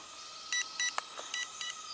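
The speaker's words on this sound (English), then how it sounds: "so the video, it keeps beeping all the time the video's running" A series of short electronic beeps from an Eachine E60 mini drone camera while recording, repeating at roughly even intervals over a faint steady whine, fairly quiet and close.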